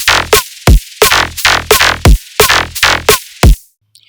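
Short stabby bass synth hits filtered through a bandpass equalizer that removes lows and extreme highs, leaving a thin mid-range tone; about eight punchy bursts in a syncopated pattern, loud and alone, ending abruptly.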